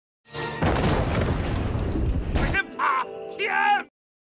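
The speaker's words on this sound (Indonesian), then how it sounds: "Dan ia pun meledakkan dirinya bersama Sio dan pejabat polisi korup itu." A bomb blast in an action film, heard as a loud, dense roaring boom lasting about two seconds that cuts off abruptly, followed by brief tonal cries or shouts.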